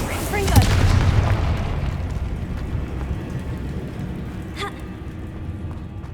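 A Confringo spell explosion in Hogwarts Legacy: one loud blast near the start with a rumbling tail that slowly fades, followed by a fainter magical burst later on.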